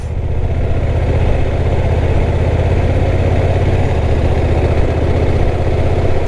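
A Honda NT1100 motorcycle engine pulls steadily through the gears at low road speed, a loud continuous drone with a couple of brief shifts in pitch as gears change.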